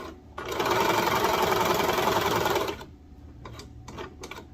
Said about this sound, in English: I'm going to put this underneath the cover stitch just to sew it